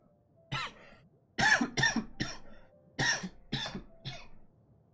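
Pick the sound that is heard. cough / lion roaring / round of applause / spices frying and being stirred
cough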